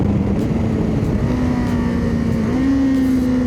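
A Kawasaki KLE 500 twin-cylinder motorcycle engine drones loud and close after a downshift, holding a steady pitch that steps up slightly near the end, with rushing wind noise.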